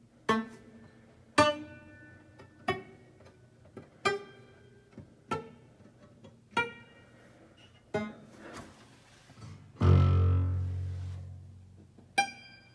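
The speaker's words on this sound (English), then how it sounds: "did you know that you can pluck a piano like you pluck a guitar?" Strings inside a grand piano strummed in slow, evenly spaced sweeps, each ringing and fading, with a deeper booming swell near the end; no talking.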